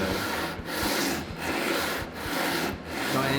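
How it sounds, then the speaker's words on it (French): Hand sanding a wooden electric guitar part, rhythmic back-and-forth rasping strokes of abrasive on wood, loud and close, with regular short pauses as the stroke direction reverses, about four passes. "quand on ponce comme ça à la main, on fait des erreurs"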